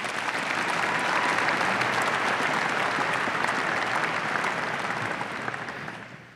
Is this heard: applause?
yes